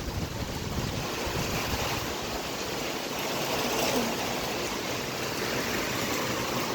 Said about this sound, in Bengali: অনবরত বৃষ্টি পড়তে কোনো থামতেছে না